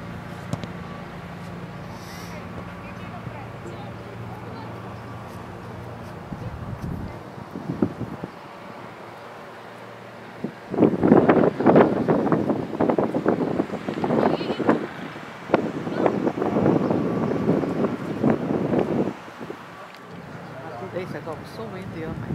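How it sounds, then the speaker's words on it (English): Strong gusts buffet the microphone at an outdoor youth soccer match, loud rumbling bursts that come and go. People talk over the wind. "So windy, oh my God."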